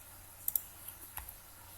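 A few quiet, sharp clicks close by, like a computer mouse button pressed twice quickly and then once more, in an otherwise quiet room.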